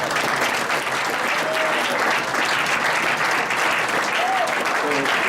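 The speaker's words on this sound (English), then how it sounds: "Let's have a big round of applause." Applause from a retirement dinner audience, honoring former 1978 NCAA men's water polo players as they stand, fills the room steadily and loudly throughout, with a few brief voices calling out over the clapping.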